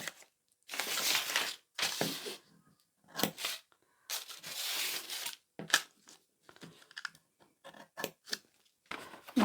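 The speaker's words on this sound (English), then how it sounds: "I'm going to cut into the corner of my pattern now" Scissors snip into the corner of a paper sewing pattern, a series of close, crisp cutting crunches in uneven bursts with short pauses between them.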